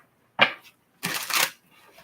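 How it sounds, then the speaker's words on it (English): Tarot cards shuffled by hand in two quick bursts, a short riffle followed by a longer crisp flutter, close and alone against a quiet background. "this will be our last shuffle"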